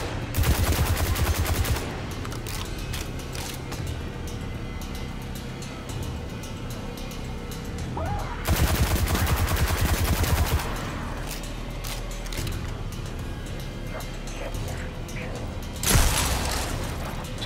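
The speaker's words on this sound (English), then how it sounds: "Shotgun ain't no joke." Gunfire in Destiny 2 comes in three loud, rapid bursts, separated by stretches of lower mechanical game noise.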